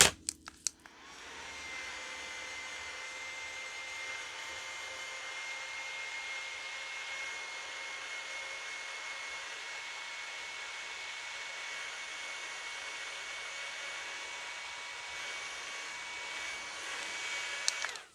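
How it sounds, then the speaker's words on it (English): A small electric fan blows steadily for about sixteen seconds to dry freshly applied makeup, a constant airy whoosh with a few sharp clicks as it switches on and off. "I'm going to just use my fan and just kind of dry these a little bit really quick"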